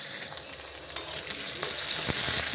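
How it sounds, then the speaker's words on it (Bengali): Potatoes frying in oil in a wok (kadai), a steady close sizzle with a few sharp crackles and stirring knocks, no talk. "প্রথমে আলুগুলো ভেজে নেব"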